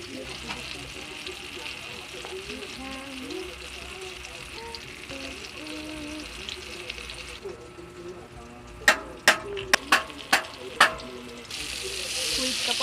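Eggplant fries in a pan with a steady, soft sizzle running throughout, broken near the end by several sharp clicks or taps and a brief louder burst of hiss.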